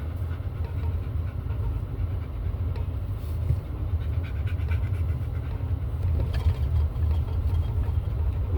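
A dog pants steadily and rapidly at a park, a continuous close, breathy rhythm over a dull low rumble, with no voices.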